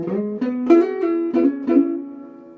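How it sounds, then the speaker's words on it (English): Electric guitar fill: a few close, clean notes sliding up the 6th string, each note ringing and gliding in pitch before a soft decay. "Now we have this fill, which sounds like this."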